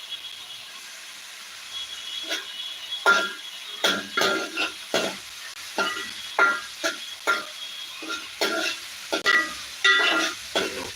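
Food is stirred in a frying pan during breakfast cooking, with a soft sizzle under repeated rhythmic scraping and clattering strokes of a spoon against the pan, growing busier after the first few seconds.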